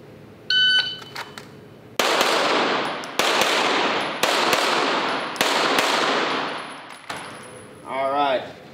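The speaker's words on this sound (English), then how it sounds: "draw, fire two to the body, two to the body, two to the head, two to the head" Pistol shots fired in quick pairs at targets, sharp loud close cracks with ringing tails, about six shots spaced almost evenly, preceded by a shot timer's electronic beep.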